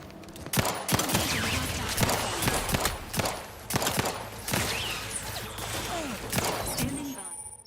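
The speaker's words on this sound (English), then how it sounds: "Triple barrel shotgun." A triple barrel shotgun fired in a sci-fi video game, heavy booming blasts repeated roughly every half second to second over constant combat noise, loud and up close.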